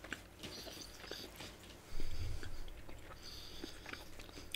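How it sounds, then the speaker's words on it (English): Someone chewing a Whitman's chewy caramel chocolate, faint soft mouth clicks and sticky chewing sounds close up, with one brief louder thump partway through over quiet background. "Whitman's caramel was very, very, very chewy"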